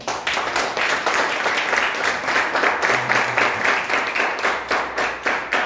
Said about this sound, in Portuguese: Palmas para Jesus.